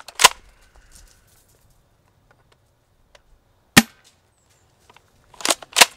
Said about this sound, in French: maintenant on va passer au test de tir et au passage chronie